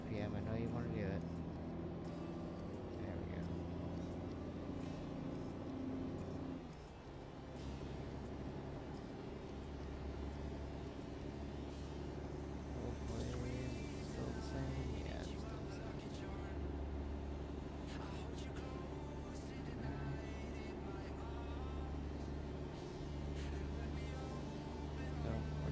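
A truck engine labors in gear while towing a San Francisco cable car from Las Vegas toward St George, a steady low drone that rises and holds under someone talking.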